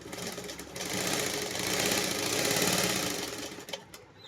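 An electric sewing machine runs a straight stitch on a suit seam, a steady close mechanical whir with rapid needle chatter that swells, holds and then winds down near the end.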